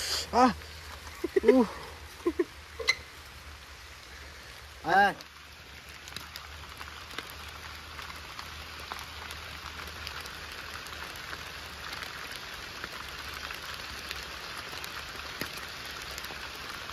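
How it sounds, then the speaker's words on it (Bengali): Heavy rain falling in a forest, a steady dense patter on leaves and ground that fills the scene, with a few brief voices talking near the start before the rain carries on alone. "জোরে বৃষ্টি দিয়ে দিল"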